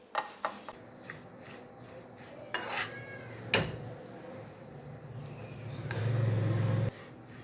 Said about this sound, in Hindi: मसाला रोस्ट करने से ना इसकी खुशबू और जायका बहुत ज़बरदस्त हो जाता है